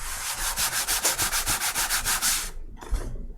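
Rough-textured cardboard player boards from the Tapestry board game rubbed together in steady back-and-forth strokes, a close, dry sandpapery scraping repeated about a dozen times before stopping, followed by a brief softer scuff.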